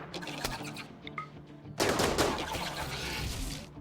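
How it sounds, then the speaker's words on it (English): Gunfire aimed at a giant insect in the RimWorld video game: a few scattered light shots, then a dense, sustained burst of rapid fire that keeps rumbling on. "Slab fire at the giant insect trying to eat Bunny"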